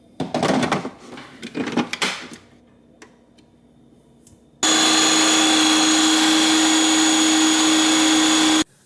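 A Ninja Creami ice cream maker starts up halfway through, a loud, constant high-pitched whine that holds steady for several seconds after some handling clatter and a quiet pause.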